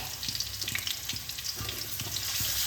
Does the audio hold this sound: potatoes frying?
yes